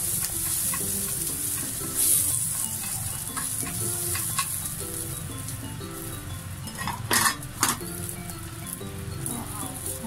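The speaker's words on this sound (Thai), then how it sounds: "แล้วก็จะคั่วเม็ดมะม่วงก่อนเลยนะคะ" Cashew nuts being dry-roasted in a pan, with a steady close sizzle and scraping stir, occasional metallic clinks of utensil on pan, and someone speaking over it.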